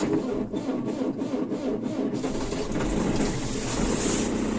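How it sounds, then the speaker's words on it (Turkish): A New Holland TD90 tractor with a weak battery cranks with a rapid, rhythmic churning for about two seconds, then catches and settles into a steady, loud diesel rumble. "Tek marş çalıştı. Biraz zorladı"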